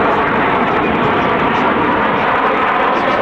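A PZL TS-11 Iskra jet trainer flies at an airshow, a loud continuous roaring rush of engine and air noise that holds steady throughout.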